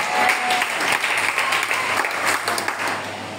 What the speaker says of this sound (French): Acclame le Seigneur très fort si tu es avec moi.